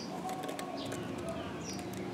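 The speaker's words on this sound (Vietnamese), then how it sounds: "Riêng con chim này thì mình nói với độ gu của nó nè" Spotted dove, a kept cage bird from Phu Yen, coos softly over continuous outdoor background noise, with faint chirps from other birds.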